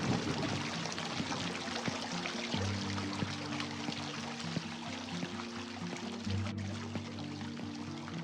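Fountain water in an Unreal Engine 5 video game, a steady continuous pouring and splashing stream with a faint low hum underneath.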